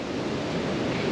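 Steady wind rushes past an outdoor chicken coop during a windstorm, a broad continuous roar with no breaks, loud and close to the microphone.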